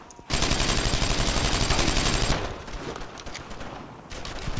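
Rapid automatic gunfire in the World War II shooter Brothers in Arms: Earned in Blood, a sustained burst of close, loud machine-gun fire for about two seconds, then more scattered shots trailing off.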